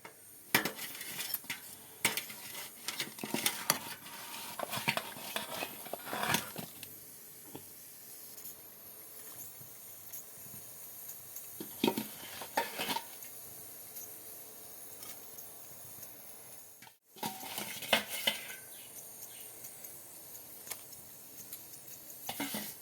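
Fried katla fish pieces are added to a tomato gravy and stirred, giving repeated utensil clinks and scrapes against the pot over a soft background hiss. The sound is close, with brief pauses, and no one speaks.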